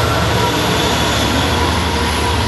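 A Long Island Rail Road Montauk train rolls through a station without stopping, a loud, steady rumble of wheels and cars that fills the whole stretch, close by and continuous.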